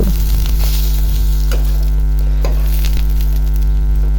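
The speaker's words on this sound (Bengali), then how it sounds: "এখন সেমাইটা ভালো করে ভেজে নিব" Vermicelli (semai) frying in ghee in a pan, a steady close sizzle with occasional stirring scrapes, heard alone over a constant low electrical hum.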